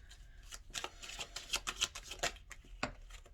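Tarot deck being shuffled by hand during a card reading: a run of rapid, crisp papery snaps and flutters close by, fairly quiet and with no talk.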